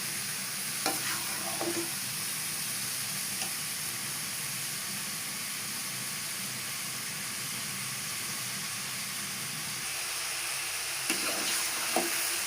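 Chopped zucchini and vegetables for a curry frying in oil, a steady close sizzle with occasional stirring scrapes near the start and end.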